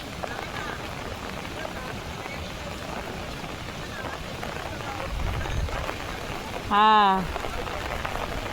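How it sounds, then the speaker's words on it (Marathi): Rain falls in a steady, even patter across the whole stretch, with a person's short spoken voice rising briefly over it near the end. "पाऊस आला ना"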